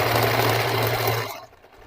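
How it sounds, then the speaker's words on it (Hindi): A sewing machine runs a steady, loud stitching burst while sewing a pocket seam on loose-fit palazzo pants, then stops abruptly after about a second and a quarter, leaving near quiet. "यहाँ पे रिवर्स स्टिच यूज करेंगे और स्टिच को लॉक करेंगे"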